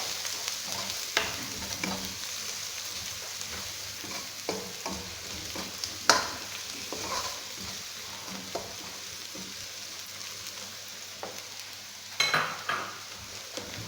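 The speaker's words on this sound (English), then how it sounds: "I'm going to allow it to cook together with the white onion." Garlic frying with white onion in a pan for a mixed vegetable stir fry: continuous low sizzle with repeated spatula scrapes and occasional sharper knocks against the pan, close and without talk.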